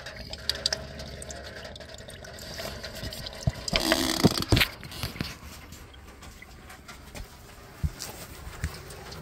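Coolant from a 2002-2008 Mini Cooper Mk I pours out of the removed thermostat housing into a drain pan, a splashing, trickling gush that peaks briefly then fades to faint dribbles and occasional clinks.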